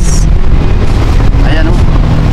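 Loud, steady wind buffets the microphone from a small boat out at sea, a constant low roar with engine-like rumble beneath it and a voice faintly heard through the noise.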